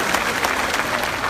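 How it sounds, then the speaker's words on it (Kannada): A large crowd at a Lingayat rally in Bidar claps loudly and steadily, a dense continuous patter of many hands with no pauses. "ಎಲ್ಲರೂ ಜೋರಾಗಿ ಚಪ್ಪಾಳೆ ಹಾಕ್ರಿ"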